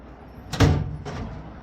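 A soft-close drawer on a Husky 41-inch seven-drawer mobile workbench with a solid wood top glides shut, giving one soft close-by thud followed by a faint sliding tail, with no talking.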